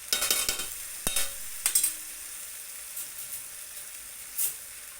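Two spoons stir noodles and masala in a hot pan, giving clinking scrapes and soft sizzling, busiest in the first two seconds and then a quieter frying hiss with an occasional knock.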